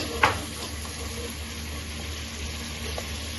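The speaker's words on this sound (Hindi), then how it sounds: "अब हम यहाँ पर गोश्त की अच्छी तरह से भुनाई करेंगे" Mutton sizzles steadily in a pot while being fried for pulao, a continuous close hiss with a small clink near the start and faint stirring movements.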